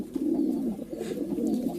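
Pigeons coo steadily in a low, throaty drone, several birds overlapping close by with no talk, kept in a loft of ten to fifteen pairs.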